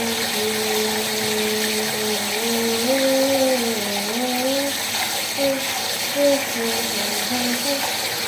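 Water runs steadily from a bathroom tap in a continuous close hiss, while a voice hums or talks over it throughout.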